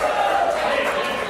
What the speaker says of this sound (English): That's the crowd trying to hush him down.